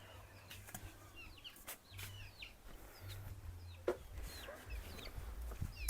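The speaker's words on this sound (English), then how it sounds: "These hens wanna eat my groundnuts" Hens cluck and scratch around in a Ugandan village yard while groundnuts are pounded, with scattered soft clucks, brief wing flaps and sharp knocks over a low background hum.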